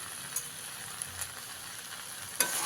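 Chopped tomatoes and a spoonful of ground spice mix stirred together in a pan for a potato and brinjal curry: a soft, steady low sizzle with a few light spoon taps and scrapes, no talking.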